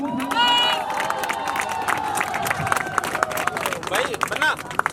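A crowd clapping in welcome at a gathering in Bidasar village, with scattered claps and cheering mixed under loud overlapping voices and talk for several seconds.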